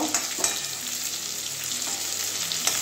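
Eggs fry in hot oil alongside pointed gourd for an egg-potol curry, giving a steady close sizzle with a few sharp crackles and light stirring clicks throughout, no voices.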